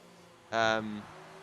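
An F1 race car in the F1 2019 video game at Singapore dives into the pit lane, a short burst of engine whine that rises sharply, holds for about half a second, then drops to a lower tone under race commentary.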